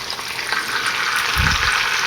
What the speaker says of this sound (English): So let's drop those down in there. They get to sizzling real good.